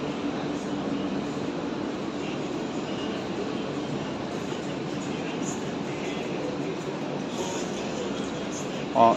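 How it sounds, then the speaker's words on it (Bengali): Continuous low rumble of a metro train at Sealdah Metro Station, Kolkata, a steady mechanical drone with a brief thump near the end. "এটা হচ্ছে মেট্রো রেল।"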